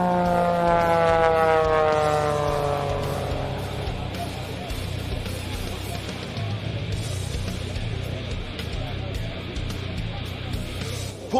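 Fury aerobatic aircraft flying inverted on its downwind leg at an air show, engine drone sweeping down in pitch as it passes and recedes, leaving a broad, steady roar with crowd and outdoor noise.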